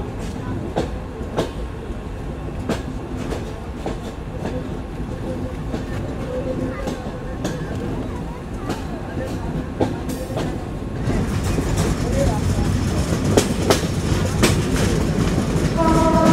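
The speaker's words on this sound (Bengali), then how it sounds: "এখন ডিপারচার নিচ্ছি মোবারকগঞ্জ রেলওয়ে স্টেশন থেকে" Rupsha Express intercity train in Bangladesh pulling away from Mobarakganj station, with repeated clickety-clack of wheels over rail joints that grows louder and denser as it picks up speed, heard from on board.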